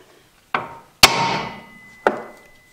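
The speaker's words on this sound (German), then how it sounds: "Dafür nimmt ihr einen Hammer und semmelt hier drauf." Hammer blows on the tie rod end of an Opel Astra during steering work, three sharp metallic strikes close up, the middle one loudest with a ringing tail.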